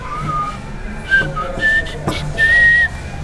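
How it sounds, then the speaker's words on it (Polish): A man whistles a short tune without shaping his lips, a few thin sustained melodic notes rising and gliding over faint room noise, close and clear with no talk. "Potrafię gwizdać tak, że nie będzie wiedział, że ja gwizdzę."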